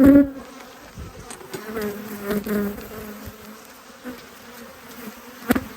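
A loud, close hum of honey bees droning steadily on a brood frame during hive inspection, with occasional handling knocks and bumps breaking through the buzz.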